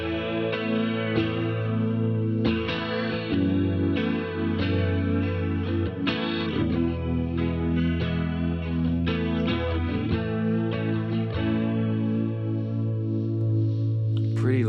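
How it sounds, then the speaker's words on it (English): Electric guitar played through a Boss CE-1 Chorus Ensemble pedal with chorus intensity at twelve o'clock, steady chords and notes ringing with a lush, wide, shimmering modulation throughout, loud and continuous with no talking. "the CE1 sounds like this"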